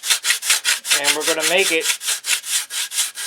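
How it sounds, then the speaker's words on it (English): Sandpaper from a roll rubs the inside of a wooden fuselage in steady, rhythmic back-and-forth strokes, loud and close, while someone speaks briefly partway through. "I've got sandpaper on a roll and I'm sanding the inside of this."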